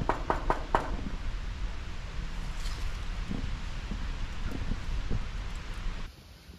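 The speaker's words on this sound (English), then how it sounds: "Maybe if I just knock." Someone knocks on the door of the Kelenfold Power Station building outdoors, with a handful of quick knocks at the start before steady wind noise and faint rustling take over.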